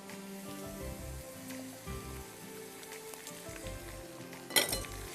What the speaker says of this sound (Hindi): अब अच्छी तरह आप इसको प्याज और लहसुन के साथ भूनेंगे